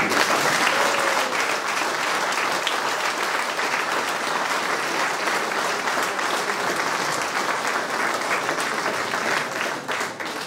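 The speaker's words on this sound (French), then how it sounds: "Je crois qu'on peut l'applaudir" An audience at a town New Year's ceremony honouring local athletes with medals in Tosse gives steady, dense applause. The clapping is loud and continuous for about ten seconds and eases only slightly near the end.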